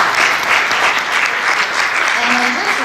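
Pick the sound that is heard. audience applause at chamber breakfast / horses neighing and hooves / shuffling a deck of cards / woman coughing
audience applause at chamber breakfast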